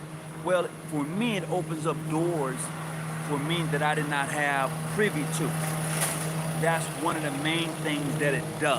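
A lawnmower runs outside during landscaping work, a steady low engine drone held throughout beneath a person talking nearby.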